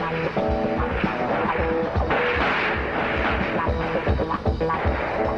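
Marine recruits fire rifles on a qualification range, a dense run of sharp, overlapping reports, near and loud, with a steady tonal background running beneath the shots.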